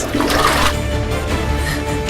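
A toilet flushes in a bathroom during an influencer tournament challenge, a loud rushing gush of water that surges at first and then settles into a steady swirling drain, with no speech.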